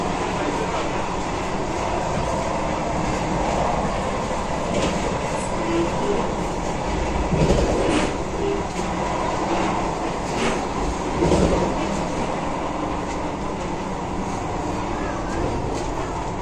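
Inside the Vande Bharat Express running from Howrah to Puri near Khurda Road, a continuous loud rumble and rattle of the rolling train holds at an even level, with brief swells of clatter.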